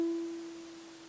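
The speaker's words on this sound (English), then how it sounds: "you're going to do a downward pluck with your thumb while bending your third finger with the string toward the ground" A single ukulele note plucked downward with the thumb while the string is bent, one clear tone ringing out and slowly fading, quiet and alone.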